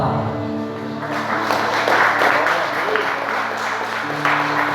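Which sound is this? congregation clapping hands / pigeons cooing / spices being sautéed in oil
congregation clapping hands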